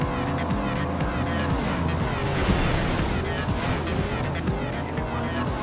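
Car engine roaring steadily while driving in the racing game Midnight Club 2, with dense broadband road and wind noise, pitch shifts as gears change, and continuous loud texture throughout.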